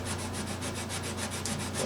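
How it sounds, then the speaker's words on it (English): Sandpaper scrubs across the finish of a crushed Gibson J45 acoustic guitar in quick, even back-and-forth strokes, close and fairly quiet, with no voices. "But we'll do a little sanding and see what we get."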